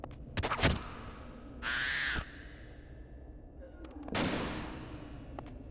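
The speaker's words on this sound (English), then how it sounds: "Oh, before the bat gets me, I'm gonna shoot him." A crossbow fired at a bat in the video game Vagrant Story: a few sharp shot impacts, a brief whooshing creature cry and a fading burst, all fairly quiet.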